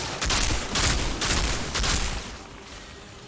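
Sustained automatic gunfire in the video game Outriders, a Technomancer emptying a magazine in steady loud bursts, then tapering off quieter at the end.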